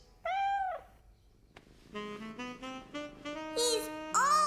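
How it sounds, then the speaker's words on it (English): A cartoon kitten gives a drawn-out meow, then a run of rising and falling purring, trilling calls that end in a louder high cry, clear and close with nothing else in the background. "He's purring. That means he's happy."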